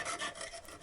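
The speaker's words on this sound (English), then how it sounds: "sawing off a thin piece of" A jeweler's saw cuts a thin strip from silver sheet for a handmade chess set, making quick rasping strokes, close and fairly quiet, about four rhythmic pulls with no talk.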